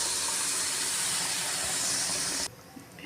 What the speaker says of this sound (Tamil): இப்போ மிக்ஸி கழுவி வச்சுருக்க தண்ணியை அதில் கலந்துக்கலாம்.